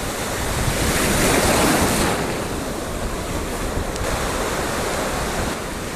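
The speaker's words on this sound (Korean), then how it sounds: "파도가 막 몰려오고 있습니다." Ocean surf rolls in steadily against a rocky coastal path on the Homi Peninsula, a broad, continuous roar of breaking waves, swelling slightly near the start, with wind noise over the microphone.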